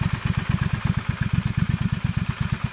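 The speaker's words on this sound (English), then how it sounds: "the engine on this thing is the 1200cc high power HP" A Triumph Scrambler 1200 XC motorcycle with a 1200cc high power engine idles close by, a steady, loud, lumpy pulsing beat with a faint clatter.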